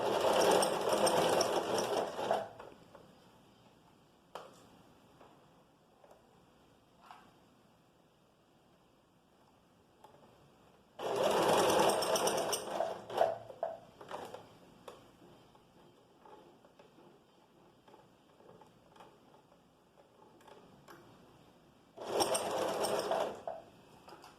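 A sewing machine stitching a vest seam runs in three loud bursts of rapid needle clatter, separated by quieter stretches of scattered clicks and handling noises.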